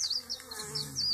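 Honey bees buzzing around an opened top bar hive during a three-week inspection, a close, steady insect drone with individual bees whining past.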